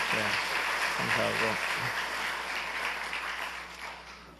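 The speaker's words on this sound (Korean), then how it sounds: "한번 박수 한번 해주세요" A church congregation applauds a choir in new robes before a cantata, in a broad, sustained wave of clapping that slowly fades, while a voice speaks briefly at the start.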